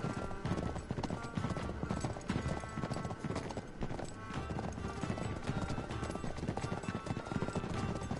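Steady clip-clop of several horses' hooves on hard ground in a convoy in Uncharted 3: Drake's Deception, continuous and fairly close, with a busy rumbling background and occasional faint voices.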